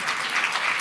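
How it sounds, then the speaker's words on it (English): Audience clapping at a forum on displacement: dense, steady applause from many hands blending into a continuous wash. It fills the whole moment at a fairly loud level, close and with no voices. "please clap."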